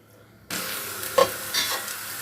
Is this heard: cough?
no